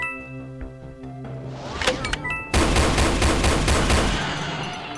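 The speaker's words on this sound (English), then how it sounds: "You can go with the pistol. My double-powered pistol." Double-powered pistol in the Doom-based game Golden Souls 2 firing in a fast burst of rapid, evenly spaced shots that cut over electronic game music, loud and close, fading slightly toward the end.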